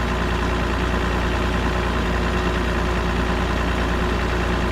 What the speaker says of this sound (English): Accelerate the vehicle for 5 seconds.